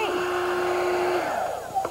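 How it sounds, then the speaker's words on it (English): A hair dryer blows air upward to keep a ball floating, a steady whooshing hum with a held tone that drops near the end, fairly quiet and with no voices. "the air from the hairdryer is blowing on the ball and pushing it up"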